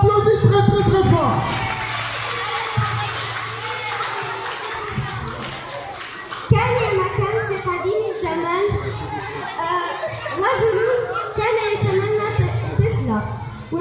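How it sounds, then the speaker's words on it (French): Children at a storytelling festival clap and cheer together, a lively mix of claps, shouts and excited voices that surges and dips, with chatter throughout, close and fairly loud. "On applaudit très très très fort."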